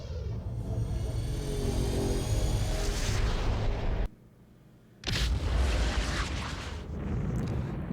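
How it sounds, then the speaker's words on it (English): A huge, rumbling explosion in the space game X3: Albion Prelude roars loudly, cuts to near silence for a moment, then another heavy blast erupts and rolls on. "Why did I just hear an explosion?"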